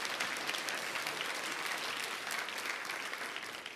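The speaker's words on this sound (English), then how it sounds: "Give her a big round of applause." Faint, even applause from a church congregation, steady clapping from many hands sustained at a distance and slowly thinning toward the end, with no one speaking over it.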